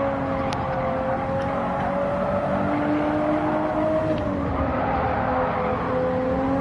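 A Toyota Supra race car in the video game Gran Turismo 7 holds a continuous engine drone whose pitch rises and dips slightly as it is thrown through corners, loud and steady with no talk over it.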